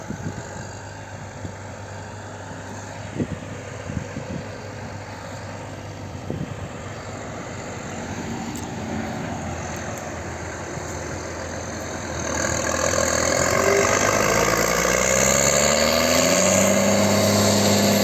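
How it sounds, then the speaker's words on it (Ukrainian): A New Holland 7070 tractor engine runs steadily while pulling a TerraLand D-series deep subsoiler through hard ground, a low continuous drone that grows louder and fuller about two-thirds through as the load rises. "Трактор Ніхоланд 7070."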